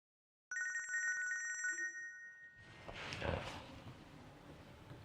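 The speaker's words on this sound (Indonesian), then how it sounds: "Ada telepon, Pak, dari tim kita." A telephone rings with a clear electronic trill, loud and close, for just over a second, then gives way to a noisy room with faint background voices.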